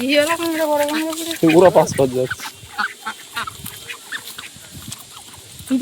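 Ducks at a duck shop quack and honk in loud, close bursts, mixed with voices talking nearby.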